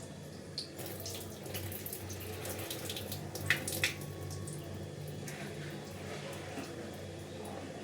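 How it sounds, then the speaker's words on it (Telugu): Excess cooking water drains off boiled rice for fried rice, a continuous near splashing trickle like a tap pouring into a sink, steady throughout with a couple of brief louder splashes. "ఇట్లా సైడ్కి పెట్టేస్తే ఎక్సెస్ ఉన్న వాటర్ కిందికి వచ్చేస్తుంది"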